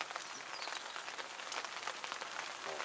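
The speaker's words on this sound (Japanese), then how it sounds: "雨降ってきたね。" Steady rain patters on surfaces outdoors at a family farm, a dense, even hiss of drops with no voices, moderately quiet throughout.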